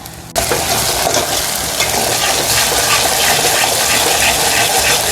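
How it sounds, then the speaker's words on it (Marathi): Ginger, garlic and green chili with browned onion frying in hot oil in a single pot for mutton curry, a loud steady sizzle with stirring scrapes, close and continuous after a brief quiet start. "आलं लसूण आणि मिरची जो कच्चापणा आहे तो तेलामध्ये छान असा परतवला जातो"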